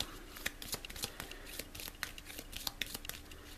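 A deck of game cards for The Batman Who Laughs Rising being shuffled up close, a quiet run of crisp riffling snaps and papery flicks repeating steadily throughout with no talking.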